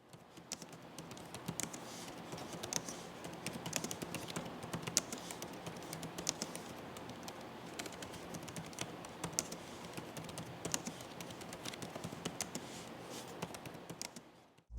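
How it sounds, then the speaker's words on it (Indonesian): Rapid typing on the keyboard of an HP Laptop 14-em0014AU: a continuous stream of soft, close key clicks with occasional sharper taps, steady throughout. "berikut ini adalah contoh suara feedback dari keyboardnya"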